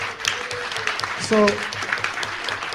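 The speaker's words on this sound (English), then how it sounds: "Let's give a big round of applause for everybody here." An audience at a music career talk applauds, a soft, spread-out patter of clapping that runs beneath a man's speech throughout.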